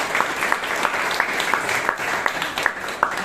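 Audience applause at a Toastmasters club meeting in Bangalore, a steady wash of clapping from a roomful of members, moderately loud and continuous with a few sharper claps standing out.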